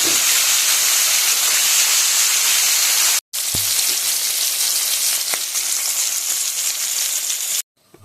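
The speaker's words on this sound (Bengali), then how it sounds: "মাছটা ভেজে নিয়েছি আর আমি নামিয়ে নিয়েছি" Dried fish frying in hot oil after salt and turmeric go in, a loud, steady sizzle and hiss that runs close and continuous, breaking off for a moment partway through and again at the end.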